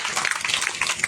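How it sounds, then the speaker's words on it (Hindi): A church congregation applauds during a Hindi-language sermon, a brief burst of steady, dense clapping that fills the room at moderate loudness. "ताली तो बनता है इस बात पे।"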